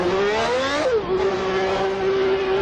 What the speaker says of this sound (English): you start up this engine and then you take it for a drive